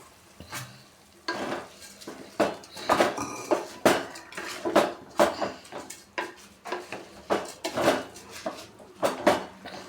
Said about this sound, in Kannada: ವಾಶ್ ಮಾಡ್ಕೊಂಡು ಬರ್ತೀನಿ ಇವಾಗ ಅಕ್ಕಿ ಹಾಕೋತಾ ಇದ್ದೀನಿ